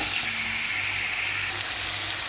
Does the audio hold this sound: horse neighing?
no